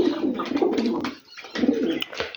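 Giribaj high-flying pigeons coo softly and closely while walking down off a tin roof toward food, several soft cooing bursts with a brief pause in between.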